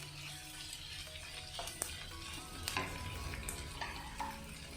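Tomato and cooked lentils are sautéed in a pan for Kerala-style small-onion sambar. A soft sizzle runs throughout, with quiet stirring and spoon scrapes against the pan close by and no speech.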